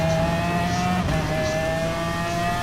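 A race car in Gran Turismo Sport at Lago Maggiore during a manufacturer series race, its engine whining steadily at high revs with a quick gear change around the middle, alone without talk.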